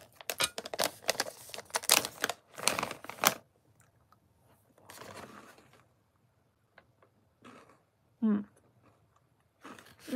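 Someone chews a crunchy snack with a crunchy center right at the microphone, repeated crisp crunches in close bursts, then a pause and a few softer bites.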